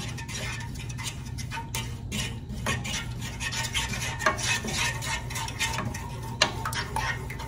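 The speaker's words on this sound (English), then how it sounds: "Stir it on up, and once it gets thick, you're just going to set it to the side." A spoon works through a thickening glaze for smoked turkey legs, giving faint, irregular scraping and light ticking clicks against the pot over low kitchen background noise.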